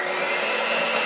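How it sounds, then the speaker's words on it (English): An electric mixer whirs steadily while creaming sugar into gluten-free cookie dough, a loud continuous motor drone holding an even level throughout with no talking. "to cream this, make sure we're going to use an electric mixer"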